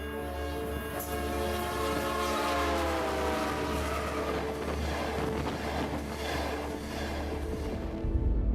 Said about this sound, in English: Think about how the pitch of a train whistle drops as it races past.